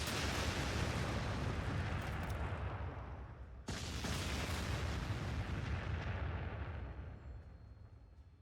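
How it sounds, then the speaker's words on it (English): Rocket launcher fire in the Warhammer 40,000 Sanctus Reach strategy game: a loud, rumbling blast with a long roaring tail, cut by a second sharp launch partway through that swells and slowly fades. "we got a rocket launcher"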